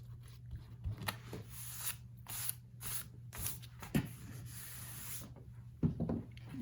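Sticky glue residue being rubbed off a handmade travel notebook, heard as faint, repeated scratchy swishes in short bursts over a low steady hum.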